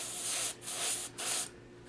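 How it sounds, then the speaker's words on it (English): Three short, loud bursts of paint sprayed from a can onto a test board, each a steady close hiss about half a second long, separated by brief gaps. "I'm going to spray, making sure I saturate it"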